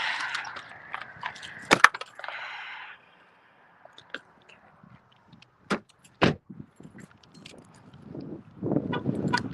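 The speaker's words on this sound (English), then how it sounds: "Let me get the keys out of the car." Keys jangle as they are taken out of a car in short metallic bursts near the start, followed by scattered clicks and handling knocks, close and fairly quiet.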